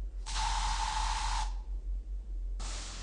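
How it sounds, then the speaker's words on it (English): A fire extinguisher in the video game Space Station 13 sprays two loud, steady hissing bursts, a long one and then a shorter one after a brief pause. "That is Derek Love spraying fire extinguisher all over the place."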